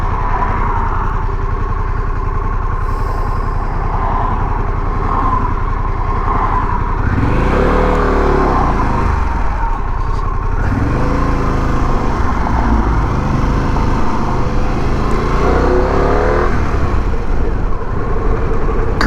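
Several vehicles roll past at an intersection, heard from a Harley-Davidson Pan America motorcycle idling nearby, a steady engine rumble with passing cars swelling and fading across the scene.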